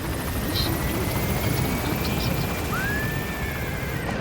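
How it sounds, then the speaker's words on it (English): Steady roar of a helicopter extraction chopper from Metal Gear Solid V: The Phantom Pain, a dense continuous rotor and engine wash filling the whole stretch, loud and close, with a faint rising whine partway through. "Always shooting at the chopper."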